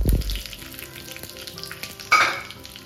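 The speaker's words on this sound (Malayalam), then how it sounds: "ഇനി കറിവേപ്പില, പച്ചമുളക് ഇവ കൂടെ ചേർത്തിട്ട് നല്ലപോലെ ഒന്ന് മിക്സ് ചെയ്തെടുക്കാം." Fenugreek seeds, curry leaves and green chillies sizzle in hot oil for a Kerala kurukku kalan, with a sharp crackle at the start, then a softer steady fry and a scrape of stirring near the end.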